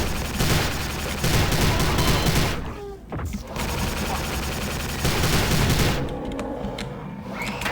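Rapid bursts of gunfire in the 2006 video game Prey, in a dense, continuous volley, with short gaps between strings of shots; a voice is briefly audible underneath.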